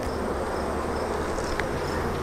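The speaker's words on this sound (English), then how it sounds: "Got all sorts of bees up in here." Honey bees hum in an open, queenless hive, a dense steady buzz from many insects close by with no talking.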